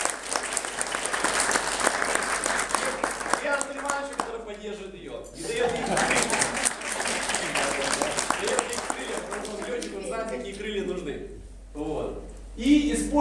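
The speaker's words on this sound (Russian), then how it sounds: "Аплодисменты." Bursts of audience applause at a motivational network-marketing seminar hall, clapping swelling and dropping between stretches of a speaker's amplified voice, with brief quieter gaps and talk returning over the tail.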